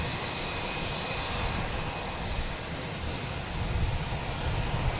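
A Lufthansa airliner roars at Boston Logan Airport with a continuous, broad engine rumble and hiss at moderate distance, holding steady with a slight swell toward the end.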